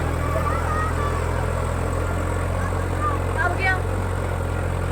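Swaraj 855 and Kubota 5502 tractors under load pulling an 18-tine harrow give a steady, low diesel drone throughout, with people talking over it.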